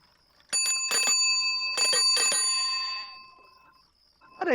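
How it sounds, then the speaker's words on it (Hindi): A bicycle-style bell rung close and loud in bursts, several bright metallic trills clustered together, then a sustained ringing that fades out, with a fresh ring starting just at the end. "यहाँ इतनी इंपॉर्टेंट बात चल रही हो, तुम जा घंटी बजा रही हो।"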